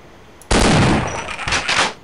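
Shotgun fire in the video game Half-Life, a sudden loud close blast that rings out briefly, followed by a second quick burst, with no talking.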